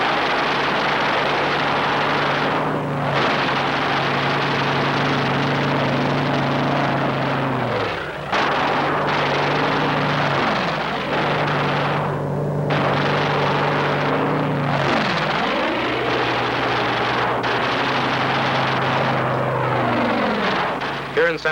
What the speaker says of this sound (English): fighter aircraft swooped down to destroy the enemy